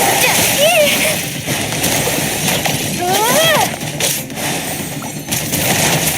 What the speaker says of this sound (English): Water jet!